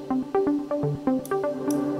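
Moog synth arpeggio passed through an Eventide Black Hole reverb, quick evenly spaced plucked notes cycling in a repeating pattern, with a soft washed tail behind them and no talking.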